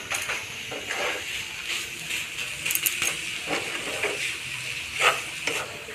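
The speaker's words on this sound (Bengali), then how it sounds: "নেড়ে যেতে হবে কিছু যেন লেগে না যায়" A sweet mixture is stirred in a frying pan, with a utensil scraping and clinking over a steady soft sizzle and repeated light metallic taps throughout.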